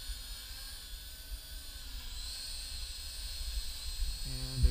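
HolyStone HS-165 toy drone flying outdoors on its faster speed setting in light wind, a continuous high-pitched propeller whine and hiss that slowly grows louder as it nears, with a brief low thump at the end.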